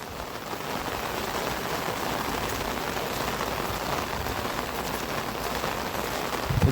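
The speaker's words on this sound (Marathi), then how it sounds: "पाऊस खूप पडायला लागलाय." Heavy rain pours steadily on a village farm road near a river, a dense, even hiss of drops on surfaces that stays loud and unbroken throughout, with no voices.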